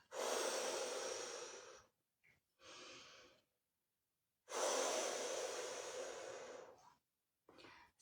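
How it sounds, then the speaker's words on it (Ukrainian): Slow, deep relaxation breathing: two long, loud breaths in through the nose and out through the mouth, with shorter breaths between them, close up with no talking. "Закрити очі і вдих через ніс, видих через рот."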